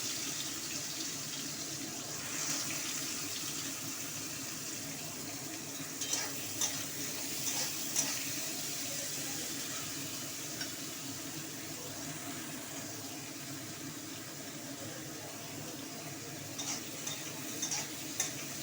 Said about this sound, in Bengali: পেঁয়াজটা ফোড়ন দিয়ে দিলাম, পেঁয়াজ আর লঙ্কা